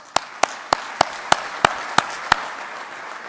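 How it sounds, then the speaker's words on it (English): About eight isolated, evenly spaced claps ring out in a conference meeting hall, crisp and fairly near over a low room hum, sounding like a small sparse round of applause for a planning committee. "let's give our planning committee a round of applause for their excellent work"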